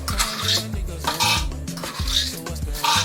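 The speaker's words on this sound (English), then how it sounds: "now we can add our tiger nuts to the blender." Soaked tiger nuts clatter into a blender jar in several quick bursts, hard little pellets rattling against the container with short pauses between pours.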